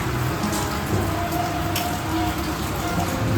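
Rain falls steadily in a continuous, fairly loud hiss with faint scattered drips and patters, an even wash of sound throughout with no clear talk.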